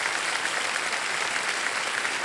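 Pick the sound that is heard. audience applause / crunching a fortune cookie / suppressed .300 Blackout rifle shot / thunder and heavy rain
audience applause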